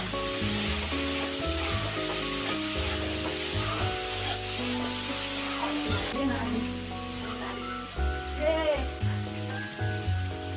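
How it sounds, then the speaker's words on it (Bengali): Food sizzles steadily in a hot pan as it fries with turmeric and salt, partly buried under continuous background music. "সামান্য হলুদ আর সামান্য লবণ দিয়ে ভালো করে ভেজে নেব।"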